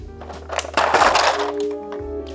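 Stiff plastic blister packaging from a Tsume Batman HQS+ statue box cracks and crunches as it is pulled apart too hard, a burst of crackling close up that settles back into quieter rustling.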